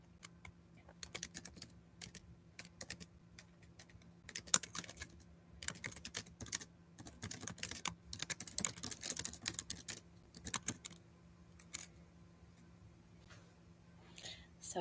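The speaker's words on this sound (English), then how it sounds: "Let me type that here too." Clicky computer-keyboard typing comes in irregular bursts across most of the stretch, close and fairly quiet, with a low steady hum underneath.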